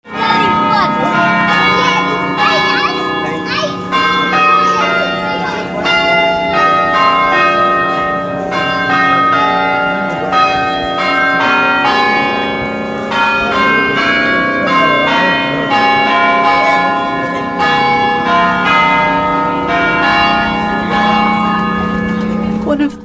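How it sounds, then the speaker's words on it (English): Bell ringers at Trinity Church in Falkirk sound the church bells in a long, loud peal of overlapping struck tones that ring on steadily, with faint voices beneath. "One of my favourite bits of the day was the bell ringers at Trinity Church."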